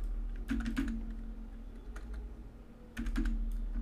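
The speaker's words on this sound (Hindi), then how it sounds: "ईमेल कर रहा हूँ और इसमें मैं सिंपली कर रहा हूँ राज at rate ji mail dot com" Keystrokes on a computer keyboard come in two quick bursts of close, clicky taps with a pause between them, heard alone over a low steady hum.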